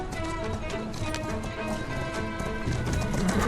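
A horse gallops in the video game Assassin's Creed Syndicate, with rapid, steady clip-clop hoofbeats over a continuous game soundscape and an occasional faint whinny.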